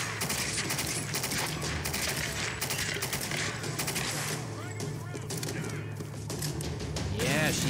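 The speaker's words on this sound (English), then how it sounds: "Yeah, she's got a machine gun." Machine gun fire rattles in Tomb Raider as dense, rapid bursts of shots run almost continuously, loud and close, mixed with impacts and game effects under a voice talking.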